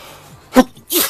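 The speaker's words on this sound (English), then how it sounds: "sorry, I think I'm going to sneeze" A single sharp sneeze bursts out from a man working at an engine bench, followed by a breathy exhale, both close and fairly loud against a quiet room.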